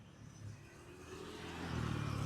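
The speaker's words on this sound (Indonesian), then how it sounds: "Nah, tuh lewat suara motor." A motorcycle passes by, its faint engine whir rising gradually in volume over a quiet, windy background, recorded on a Saramonic Air wireless microphone.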